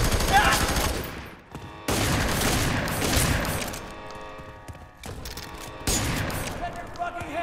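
Heavy gunfire in the video game FEAR 3, set in a prison level, loud repeated bursts and fusillades broken by short gaps, with voices mixed in under the shooting.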